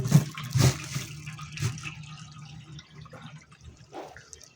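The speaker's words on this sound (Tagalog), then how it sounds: "Ayos naman yung bagsak ng tubig." Steady splashing and trickling water falling in a hydroponic NFT system, with occasional drips and gurgles, close by and continuous.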